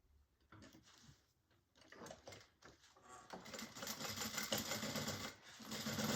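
A sewing machine stitches the bottom seam of a garment, a steady fast mechanical whir that starts and stops, then runs continuously and grows louder near the end.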